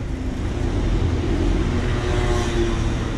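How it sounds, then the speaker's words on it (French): Car engine noise in busy Paris street traffic near Père-Lachaise, a steady loud low rumble with a swelling rev midway, no voices. "J'ai remarqué que c'était souvent les voitures rouges qui faisaient vroom vroom."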